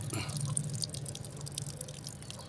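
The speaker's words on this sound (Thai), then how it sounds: "โอเคน้ำไหลไหม โอเค น้ำออกนะครับ" Water runs from a machine under test after a circuit board repair, a steady trickling flow with drips against a low motor hum, fairly quiet and close throughout.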